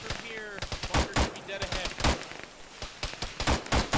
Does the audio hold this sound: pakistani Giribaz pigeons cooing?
no